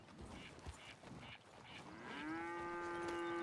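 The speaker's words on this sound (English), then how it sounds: "since we just bought them, they're baby cows" Baby cows in a ranching role-play video game give a couple of soft low moos, then one long, steady, drawn-out moo at close range with no talk.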